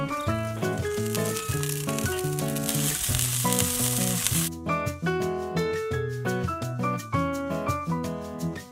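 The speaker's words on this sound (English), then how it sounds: "grill the steak until it reaches internal temperature of 60 degrees" Pork steak sizzles on a grill set for indirect heat, a dense crackling hiss that fills the first half of the clip under loud background music, which then plays on.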